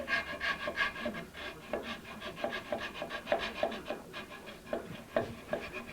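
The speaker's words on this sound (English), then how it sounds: "Take just a little with the rasp here." A rasp files a wooden neck tenon on a replica 1964 Gibson ES-335 guitar, making a quick, rhythmic series of close, coarse scraping strokes, roughly two per second, with no voice.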